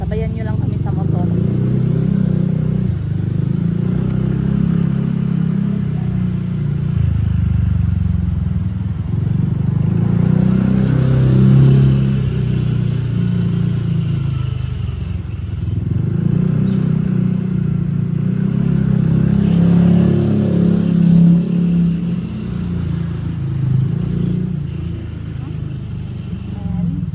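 Steady motorcycle engine drone on a road, a continuous low rumble with gentle swells in revving, close and fairly loud throughout with no talk over it.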